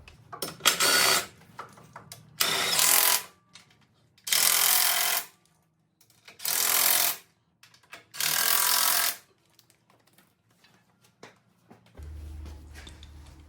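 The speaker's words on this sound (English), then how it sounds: "I'm just going to use a ratchet and use my judgment." A ratchet tightens fasteners on a Warn winch in five loud, close bursts of rapid clicking, each lasting about a second with short pauses between, followed by a low rumble at the end.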